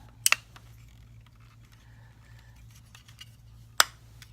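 A plastic wing part on a Wei Jiang Deformation Era MW-01 Rendsora transforming robot toy snaps into its port, giving two sharp, close clicks separated by a few seconds of quiet.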